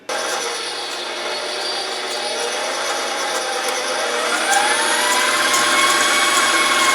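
An electric mixer whirs steadily as it blends sugar with molasses, a continuous high motor whine that rises slightly in pitch as it speeds up, heard alone.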